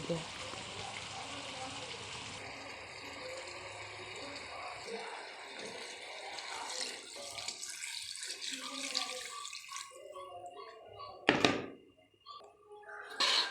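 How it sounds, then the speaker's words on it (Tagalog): Water from a bowl pours into a cooking pot of chicken tinola, a steady running splash for several seconds that fades, followed by a sharp clunk of the bowl or pot near the end. "maglalagay na nga rin po pala ako dyan ng isang mangkok na tubig"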